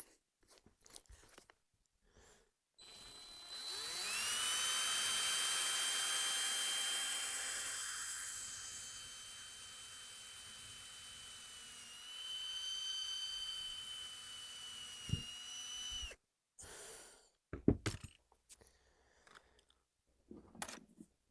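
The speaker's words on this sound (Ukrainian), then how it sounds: "Я маю шуруповерт. Ставимо сверло." Cordless screwdriver drilling a hole in a plastic rabbit drinker: a loud, steady high-pitched whine runs for about twelve seconds, then the motor winds down, followed by a few handling clicks and knocks.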